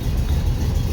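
A 1952 split-window VW Beetle's 25-horsepower engine running close by, a steady low rumbling chug with no break across the short moment.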